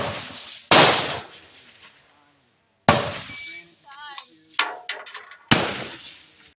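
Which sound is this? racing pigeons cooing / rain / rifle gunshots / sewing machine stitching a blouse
rifle gunshots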